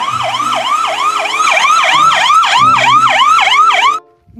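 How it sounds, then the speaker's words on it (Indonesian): A toy ambulance siren wails loudly and close, sweeping up and down in quick, even cycles for about four seconds, then cuts off abruptly. "Lihat, ada mobil ambulan."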